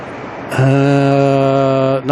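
A propeller aircraft at Auckland airport at night holds a loud, steady engine drone with a strong tonal hum that continues unbroken and close, with no voices.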